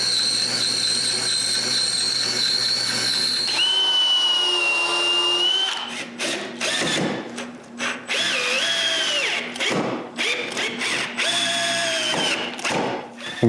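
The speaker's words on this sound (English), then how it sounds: "The first thing to do is drill a hole for the threaded rod." A power drill whines steadily, then bites in with uneven bursts and pitch changes as it bores a hole through a wooden block, loud and close.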